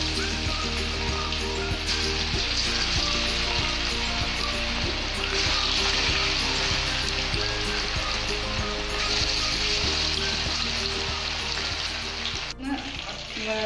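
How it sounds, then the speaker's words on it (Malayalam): Chicken pieces fry in hot sunflower oil for a home-style ginger chicken, giving a steady, dense sizzle that continues without a break throughout, close and fairly loud, with no voices over it. "നമുക്ക് ഈ ചിക്കൻ ഒന്ന് വറുത്തെടുക്കാം."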